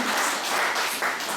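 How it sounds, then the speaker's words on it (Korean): An audience at a Korean social welfare services talk bursts into steady applause, a dense wash of clapping from many hands filling the room for a brief moment. "자, 다 그러면 한번 박수 쳐보세요."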